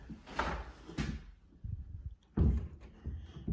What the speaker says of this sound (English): Let's go ahead and close the door here.